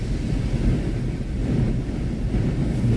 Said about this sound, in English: Can you hear that wind? Holy moly.